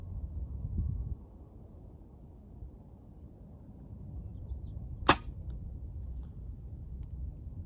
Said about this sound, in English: I'm gonna shoot another one just to make sure we're kind of hitting in the same spot.